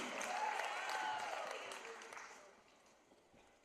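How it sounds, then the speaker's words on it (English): Faint applause from a crowd at a college women's volleyball championship rustles steadily, then thins and fades away toward the end. "how about another round of applause for these fine student athletes"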